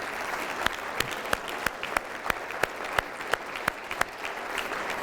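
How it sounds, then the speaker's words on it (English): An audience at a city state-of-the-address event gives a round of applause: sustained, dense clapping from many hands with a few sharper claps standing out at a steady pace. "They deserve a round of applause."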